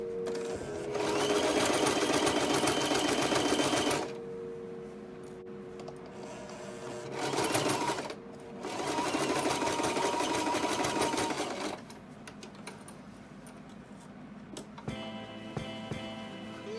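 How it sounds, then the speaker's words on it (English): Sewing machine stitching down the side seams of a thrifted shirt, running in two long steady bursts of several seconds each with a short stop between, close and loud, then falling quiet. "Then I went ahead and I sewed the seams down on each side of the shirt."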